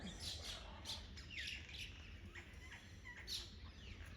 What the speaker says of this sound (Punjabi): ਸਵੇਰੇ ਸਵੇਰੇ ਪੰਛੀ ਕਿੰਨੇ ਸੋਹਣੇ ਲੱਗਦੇ ਆ